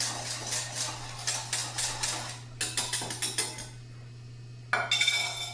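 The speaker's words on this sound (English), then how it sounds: "we're going to mix that up," A utensil stirs dissolved strawberry gelatin in a bowl, giving a run of close, rhythmic clinks and scrapes in bursts with brief pauses and no talk.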